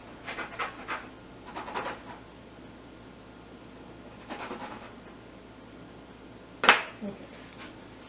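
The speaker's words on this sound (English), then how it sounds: "So cut all your circles first." A round cutter presses circles out of rolled pierogi dough, making a few soft scraping bursts and a sharp metallic clink near the end, fairly quiet and close.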